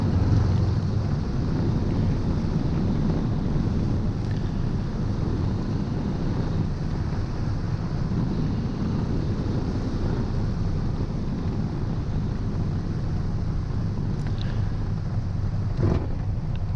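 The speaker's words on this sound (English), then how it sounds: "Quite a strong wind, not quite a crosswind, but almost, and an interesting landing." Strong, gusty wind roars steadily across the microphone as a Minisport light aircraft lands on tarmac, a loud continuous buffeting with no voices.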